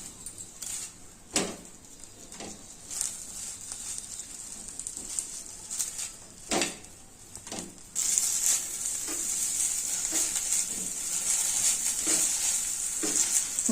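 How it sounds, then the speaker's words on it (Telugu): Okra with green chili sizzles and fries in a pan, a soft continuous hiss that grows louder and brighter partway through, broken by a few sharp clicks of stirring. "ఇది బెండకాయ ఫ్రై కండి, పచ్చికారం బెండకాయ ఫ్రై."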